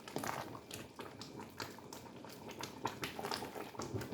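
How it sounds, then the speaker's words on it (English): Tomato pasta sauce bubbling in a cooking pot, quiet irregular pops and gurgles close by with no talking. "everything is boiling well"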